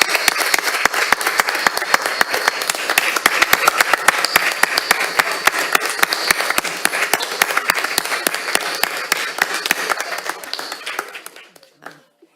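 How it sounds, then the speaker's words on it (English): A large audience at a school district meeting gives sustained, loud applause for standing parents and teachers, dense clapping filling the room for about eleven seconds before tapering off abruptly. "I'd love all the parents and teachers to stand up so we can applaud you."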